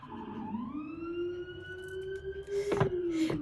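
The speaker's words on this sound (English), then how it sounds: "Please excuse the sirens." A police siren outside in New York wails, rising and holding a steady high tone, loud and continuous, with a brief burst of clatter near the end.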